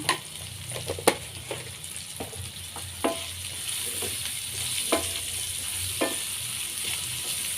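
Chow chow sautéing with salt in a pan, a constant loud sizzle broken by several sharp spatula scrapes and taps at irregular intervals, close up with no voices.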